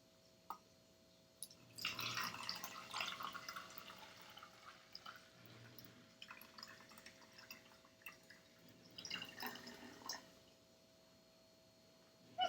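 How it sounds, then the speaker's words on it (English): Vinegar is poured from a bottle into another bottle at home, a soft trickling and glugging in a few separate bursts with quiet pauses between them, close by and fairly faint. "we're going to take our bottle and we're going to fill it about halfway with the vinegar"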